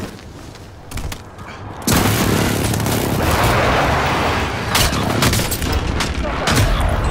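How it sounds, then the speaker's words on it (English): A precision airstrike lands in Call of Duty Warzone: after a quiet, tense lead-in, a loud sustained barrage of explosions and gunfire roars continuously, with sharper blasts breaking through and a voice partly heard. "Friendly precision airstrike inbound."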